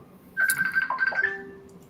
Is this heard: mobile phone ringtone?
yes